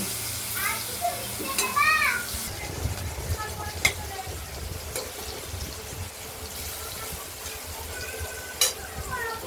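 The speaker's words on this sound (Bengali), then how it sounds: "আলুগুলো আমরা ভেজে নিচ্ছি" Potatoes frying in a pan for a Bengali bacha fish soup, a steady crackling sizzle with occasional stirring clinks, and voices heard briefly over it.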